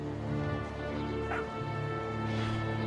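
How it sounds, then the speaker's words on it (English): A dog in What Remains of Edith Finch makes soft, distant yips and whimpers over a steady, droning game-music background. "I can hear my doggo."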